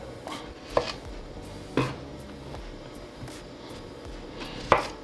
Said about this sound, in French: Pommes de terre, on a coupé comme ça